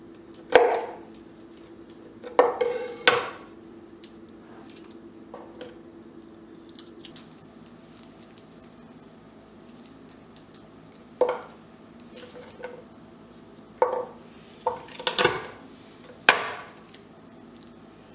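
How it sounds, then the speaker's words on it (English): Garlic cloves are peeled and chopped on a board, giving sparse, close knocks and thuds with quiet stretches between the cuts. "And we want to peel and chop the 4 cloves of garlic."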